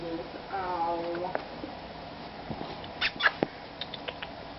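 A pet cat makes a drawn-out meow early on, followed by soft rustles and small clicks in a quiet room.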